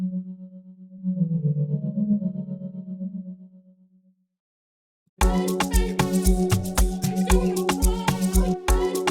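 A low synth from the Purity preset in FL Studio drones with a wavering tremolo, then cuts to silence before a loud, rhythmic music section with punchy beats starts up.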